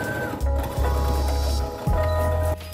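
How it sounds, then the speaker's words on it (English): A sewing machine runs in steady low humming bursts while stitching a rectangle through fabric on a beginner spring project, close up, with brief pauses between runs. "what I'm gonna do now is sew a rectangle around it and then 1 time diagonally through"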